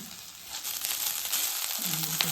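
Rice sizzling and being stirred in hot ghee, a steady close crackle with soft scraping from the pan, brief and continuous.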